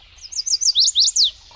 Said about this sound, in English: so a chestnut-sided warbler says,